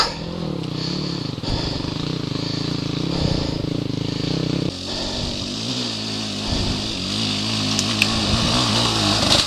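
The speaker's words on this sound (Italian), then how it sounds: "Che motoretto sta moto!" A motorcycle engine runs loud and close, revving in a steady buzzing drone with rising and falling pitch that holds throughout.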